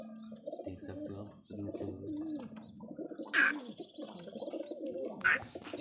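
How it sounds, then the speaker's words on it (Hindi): Pigeons coo in low, repeated throaty calls close by, with a couple of sharper bird calls and a voice talking over them. "ये देखिए कितने अच्छे अच्छे कबूतर है"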